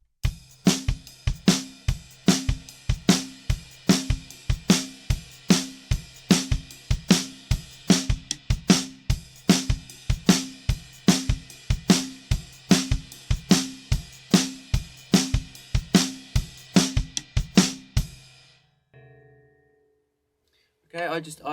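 Drum kit playing a well-known groove with claps added on top, a steady driving pattern of kick, snare and sharp clap hits repeating evenly for about eighteen seconds, then stopping.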